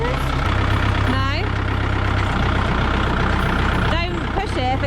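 A tractor engine strains under a 640 kilo pallet, a loud low rumble throughout with people talking over it.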